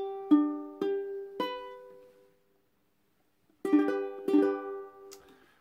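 A ukulele chord strummed several times up close, bright ringing strums in two groups, three strums that fade out, a short silence, then two or three more, with no talking.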